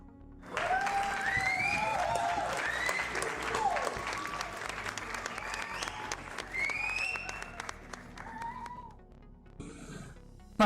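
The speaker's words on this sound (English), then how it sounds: "a round of applause for the monster that we've created this evening" Applause and cheering from a small crowd at an evening live painting session, steady clapping for several seconds with voices and whoops over it, fading out near the end.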